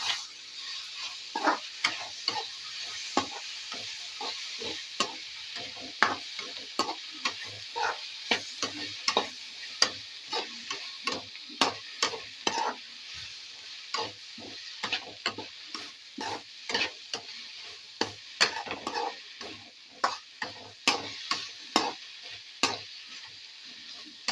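Small tomatoes are sautéed with onion and ginger in a pan while cooking beef roast. A soft background sizzle runs under frequent sharp spatula taps and scrapes against the pan, close and irregular, with no talking.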